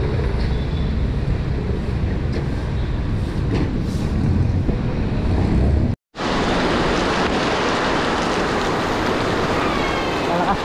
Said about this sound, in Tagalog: ang ulan malakas ang ulan